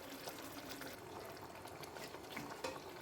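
A small amount of water pours steadily into a pan of Bengali-style potato curry with pre-boiled potatoes, making a faint, continuous splashing trickle with no talking.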